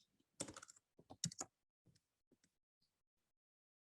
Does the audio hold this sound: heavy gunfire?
no